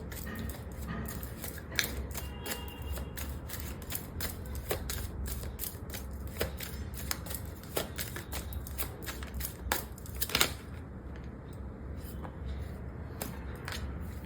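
Tarot cards shuffled and pulled during a pick-a-card reading, a quiet run of rapid papery flicks and snaps that continues steadily with a few sharper clicks.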